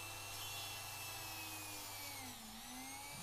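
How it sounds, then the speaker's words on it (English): A rotary engraver with a routering bit drills a hole through a handmade bone nalbinding needle, giving a steady, fairly quiet high whine with a slight dip in pitch as the bit bites. "we're just going to take the engraver. It's the same routering bit we use for carving into the bone. It's just enough to make a hole all the way through."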